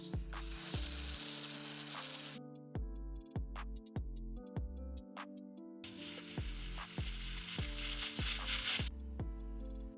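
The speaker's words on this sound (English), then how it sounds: "We're gonna be using a little bit of spray adhesive." Spray adhesive hisses from an aerosol can onto a forehead before a lace wig install, two long, close hissing bursts over background music with a steady beat.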